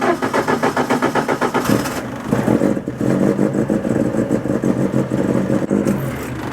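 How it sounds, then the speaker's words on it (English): A car engine with a newly fitted coolant sensor idles steadily and close, its rhythmic mid-pitched pulsing running throughout with a slight shift in tone partway, no talking. "engine's running sweet with the new coolant sensor."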